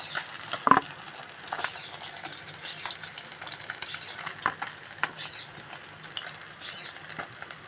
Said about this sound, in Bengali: মাছগুলো ভাজা হয়ে এসেছে, এবার তুলে নেব।